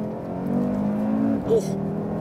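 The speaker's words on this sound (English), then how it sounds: "get this lovely crackle on the upshifts and this lovely gurgling roar" A car fitted with a sports exhaust revs with a gurgling engine roar, then a sharp crackle pops out at the upshift, heard close and loud and partly under a voice.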